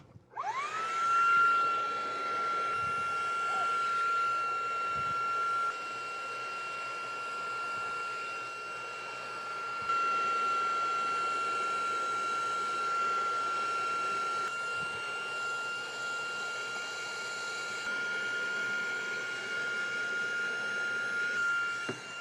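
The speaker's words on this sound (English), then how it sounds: "Let's see how well the Hyper Tough can clean it off with this little floor attachment." A Hyper Tough 20V brushless 1.5-gallon wet-dry vacuum, model 85032, with a small floor attachment cleans a car floor mat: a steady motor roar with a high whine, briefly dipping as the nozzle shifts.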